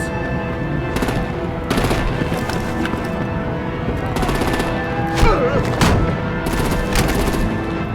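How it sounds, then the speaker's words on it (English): Artillery and rapid gunfire in an animated Batman episode: sustained loud bursts of automatic fire with repeated sharp blasts, dense and continuous, with a brief voice or effect partway through. "Break out the artillery and disable their vehicles!"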